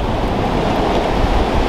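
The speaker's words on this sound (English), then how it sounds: "Super windy. It's raining" Strong wind buffets the microphone with a constant loud rush, blending with rain and water noise outdoors.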